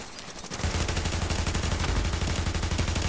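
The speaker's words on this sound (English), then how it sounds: "He's shooting at me." Rapid automatic gunfire in The Division video game, a dense, loud, steady burst of shots that starts abruptly and continues without a break.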